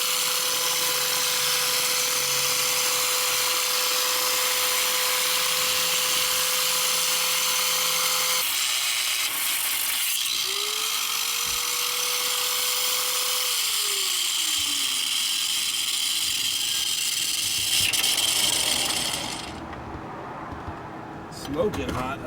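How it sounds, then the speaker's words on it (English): An electric angle grinder with a 4.5 inch 40-grit metal cutoff wheel whines loudly while cutting on a Ford F250 7.3 Powerstroke, the pitch dipping and recovering under load before the tool spins down and stops. "so I'm going to go ahead and use the electric angle grinder"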